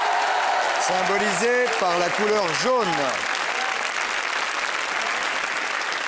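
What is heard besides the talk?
applause for children on a TV quiz show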